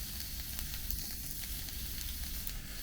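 Food sizzles steadily on a stainless steel camping grill, a Campingmoon solo DO-21, browning as it cooks. A continuous close crackling hiss with small pops, alone and without talk.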